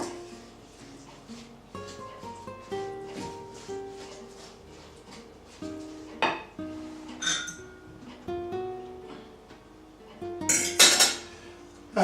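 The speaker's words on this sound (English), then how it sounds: "We then put in the orange juice. Mix that round a little bit." Orange juice being mixed into a Christmas pudding mixture in a bowl, with a spoon clinking and scraping against the sides in irregular bursts, close and fairly loud, louder knocks near the end.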